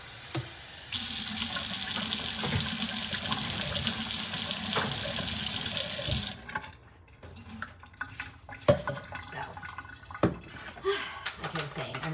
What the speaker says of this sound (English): Let me grab some water.